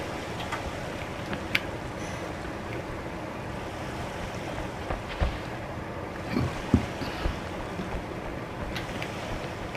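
Game boat drifting on water in Human Fall Flat, a steady wash of lapping waves and wind-like noise with a few soft knocks and splashes, no talking.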